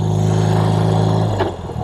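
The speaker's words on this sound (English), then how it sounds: "Has a 4-speed gearbox, has a 750cc opposed twin engine, air cooled." A 1971 BMW R75/5 motorcycle with a 750cc air-cooled opposed twin engine runs with a steady, smooth low hum that shifts and eases off near the end, close and loud without talk.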